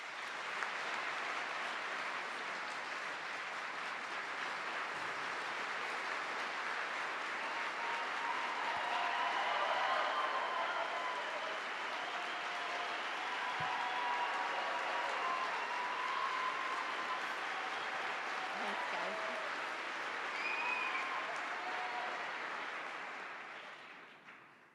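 Sustained applause from a large audience welcomes Governor Kate Brown at a State of the State address, a dense, even wash of clapping that swells slightly mid-way and fades at the end.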